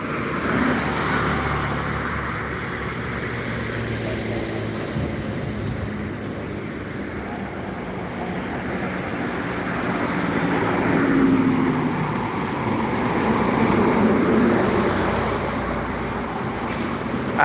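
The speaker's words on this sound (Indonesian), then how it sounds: "ANS Luxury Class menuju Rantau dan Jabodetabek dan sekitarnya." Traffic on a highway near Palembang, South Sumatra, with an ANS Luxury Class intercity bus going by. A steady, fairly loud roadway roar swells around the middle and fades again, with no talk.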